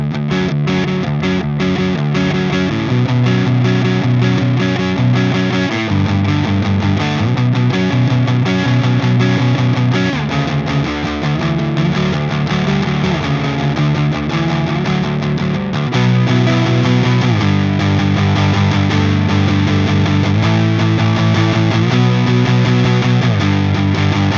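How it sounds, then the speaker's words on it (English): A loud, crunchy overdriven Fender MH-500 Metalhead electric guitar in drop D tuning chugs heavy low riffs with palm-muted rhythm, continuous and up close, no voices. "let's tune this guitar to D drop tuning, and let's hear its crunch tones."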